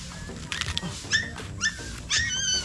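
A puppy whimpers and yips in short, high, whining bursts, close and fairly loud, with a few brief gaps between the cries.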